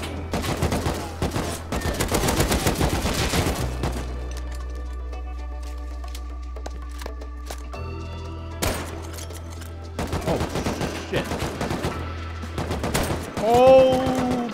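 Bursts of AK rifle fire in the survival game Rust, loud rapid volleys at the start and again near the end separated by a quieter stretch of steady droning hum, with a voice briefly heard late on.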